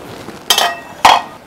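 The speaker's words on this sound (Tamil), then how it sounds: "இப்போ நம்ம இதை தட்டு போட்டு ஒரு 10 நிமிஷம் மூடி வச்சிடலாம்" Two sharp metallic clanks, about half a second apart, as a metal plate is set down on a pot, each with a brief ringing tail.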